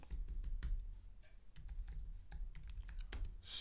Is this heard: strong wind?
no